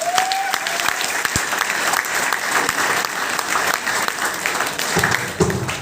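Loud, sustained applause from a large crowd, steady clapping that fills the whole stretch without pause.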